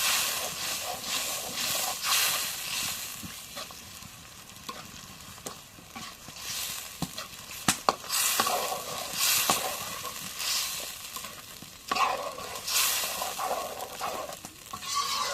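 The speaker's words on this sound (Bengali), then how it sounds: "এখন মশলাটা একটু কষাই নিই" Spices frying and being stirred in a pan before meat is added, a steady sizzle with repeated scraping and stirring strokes, fairly close and continuous without talk.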